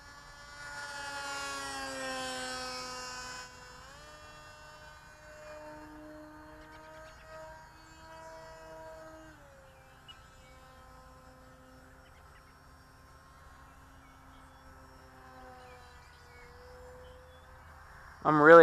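RC combat model plane, a HogWild build, flying practice circuits for precision landings, its buzzing electric motor droning steadily at moderate distance with rising and falling pitch, ending in a brief loud knock near the close.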